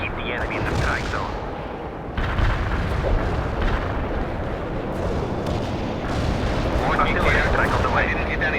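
An artillery barrage rumbles in a Cold War strategy video game, a continuous heavy roar of distant shell impacts rolling on without pause, with radio-style voices talking over it.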